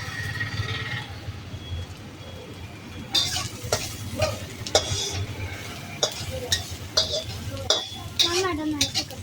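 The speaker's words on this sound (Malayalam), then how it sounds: "നന്നായിട്ടൊന്ന് ഇളക്കി കൊടുക്കാം." Chopped carrots for noodles are stirred and fried in a pan, with a low sizzle and then a run of sharp, irregular spatula scrapes and clinks against the pan, close and fairly loud.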